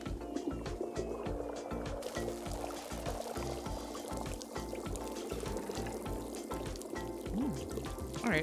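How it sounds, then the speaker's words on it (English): Tea being poured out in the video game Wanderstop: a sustained liquid splashing that runs under steady, rhythmic background game music. "Alright, so we can just pour it out if we don't like it."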